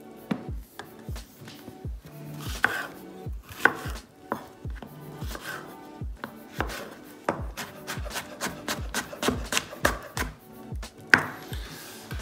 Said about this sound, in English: you just have to chop everything up